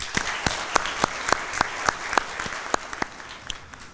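Sparse, crisp claps ring out in a steady rhythm at a Chain of Survival 2024 recognition event, a handful of distinct hand strikes standing out close over a quiet room.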